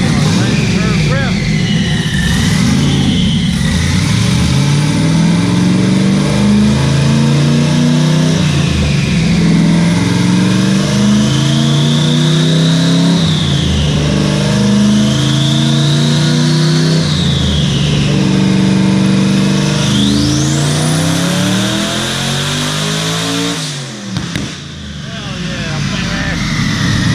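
A car engine on a dyno making over 1000 hp revs hard through repeated rising sweeps, a loud, close, sustained roar that climbs in pitch several times before cutting back near the end.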